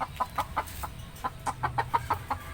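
Rooster and hens clucking in a backyard pen, a quick series of short, close clucks in an uneven rhythm with no one talking.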